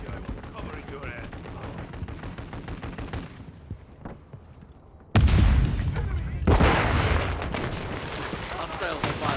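Gunfire from a military shooter video game: dense, loud bursts of automatic fire and heavy impacts that drop briefly to a quieter lull, then return louder with sustained rapid shooting and blasts.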